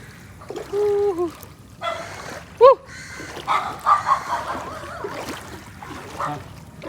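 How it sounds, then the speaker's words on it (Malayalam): Dogs bark a few sharp times amid background murmur and watery, splashing noise from floodwater, with one loud bark standing out in the middle. "അവിടുത്തെ വീടത്തെ നായ്ക്കളൊക്കെ അതിൻ്റെ മുകളിൽ കയറ്റി വെച്ചു"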